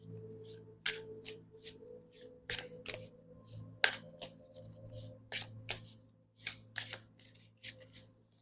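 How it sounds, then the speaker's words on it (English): A new mermaid tarot card deck is shuffled by hand, giving a run of crisp riffling bursts and card slaps in an uneven rhythm, close and quiet, with no talk. "Let me shuffle it this way."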